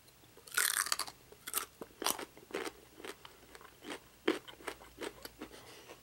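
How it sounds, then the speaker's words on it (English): Fresh Ohio-grown carrot crunched close to the mic in a string of crisp, sharp bites and steady chewing, each snap followed by softer grinding, with no talking. "someone said they hated that I was crunching, so I'm gonna eat this one."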